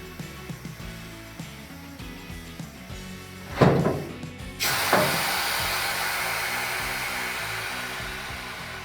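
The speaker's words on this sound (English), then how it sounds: "You'll hear the lock snap in as you get to travel height." A Scag Versatran mower deck lift mechanism whirring as the deck rises, with a sharp metallic clack of the deck lock snapping in followed by a louder steady motor hum.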